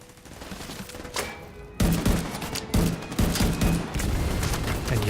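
Video game gunfire in The Division 2, sharp bursts of shots starting faint, then louder rapid volleys in the second half, with no speech.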